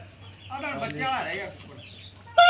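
A champion fighting rooster, a one-time winner, gives clucking calls close by over about a second, with a sharp sound at the end and faint background talk.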